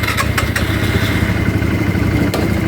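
A 125cc motorcycle engine running at idle outdoors, a steady, close, fairly loud chugging rumble with a few light clicks and no talk.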